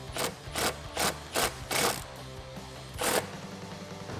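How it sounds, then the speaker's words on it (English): An 8mm socket ratchets to tighten the intake filter clamp on a 2011-2021 Charger 5.7L HEMI cold air intake, giving a series of quick, close clicking bursts in an uneven rhythm with short pauses between. "Then we can tighten up that clamp using an 8mm socket."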